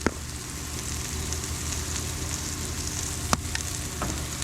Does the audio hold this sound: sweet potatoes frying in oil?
yes